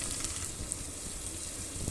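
Chopped tomato cooking down in a pan for chicken curry gives a soft, steady sizzle with faint crackle, continuous and close, with no talking.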